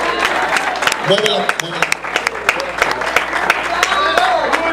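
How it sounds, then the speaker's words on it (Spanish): A church congregation at a revival campaign applauds loudly, sharp claps over sustained crowd noise, while a voice speaks over the clapping. "Un aplauso fuerte a ese Dios de poder"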